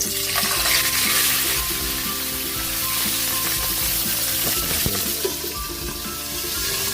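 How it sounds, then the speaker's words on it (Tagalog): Hiwas fish fries in cooking oil beside a pot of native chicken tinola, a loud, dense, continuous sizzle with occasional scraping and clinks from stirring, close up. "Lagyan na natin yung ating isdang hiwas"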